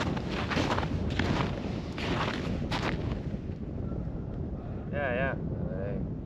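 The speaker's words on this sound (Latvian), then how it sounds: "Tas būs vēji." Strong gusty wind buffeting the microphone beside Liepāja Lake, with loud irregular rumbling bursts and a brief voice near the end.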